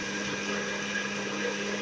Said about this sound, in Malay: Blender sehingga betul-betul halus.